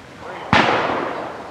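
A single sharp blast from a black powder .50 caliber coach gun at an outdoor woods walk shooting course, loud and close, with a long rumbling decay trailing after it.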